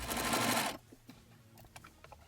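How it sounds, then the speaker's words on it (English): A sewing machine stitches a folded edge of a fabric liner for a framed storage box in a short loud burst close up, then stops, leaving faint handling clicks. "I'm going to fold that over and then sew right along"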